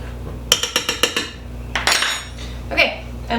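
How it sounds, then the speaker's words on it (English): A spoon stirs dry ingredients for banana bread in a bowl, with a quick series of close, bright clinks against the dish and then a few scattered scrapes and taps. "I'm just gonna grab a spoon, mix that up real quick"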